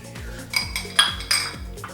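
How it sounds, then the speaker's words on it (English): A whisk beats a mixture in a measuring cup for crab imperial, giving quick rhythmic strokes with sharp metallic clinks against the cup every quarter second or so, close and fairly quiet. "I usually have a measuring cup when I'm whisking."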